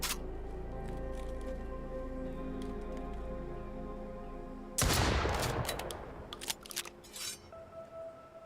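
A shotgun fired in a video game: one loud, sudden blast cuts through a steady low background hum, then rings out with a rattling, crackling tail that fades over a few seconds.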